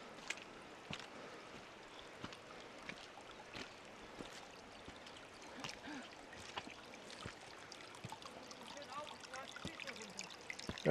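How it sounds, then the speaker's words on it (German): Faint trickling water of a Dolomites mountain stream, the Torrente Travignolo, runs steadily in the background, broken by scattered soft clicks and taps. "Wasser."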